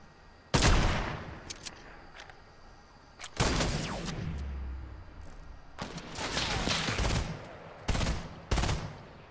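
Gunfire in Fortnite, a battle royale shooter: sharp, loud bursts of rapid shots break out several times over a quiet background, some crackling in quick volleys and others in single heavy cracks.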